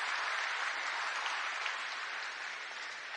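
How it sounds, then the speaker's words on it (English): Campaign rally crowd applauding workers at a Trump-Vance 2024 event in a workplace, a steady dense wash of clapping that holds evenly throughout and eases slightly near the end. "Let's give a round of applause to the people who are making the engine of America getting up and going."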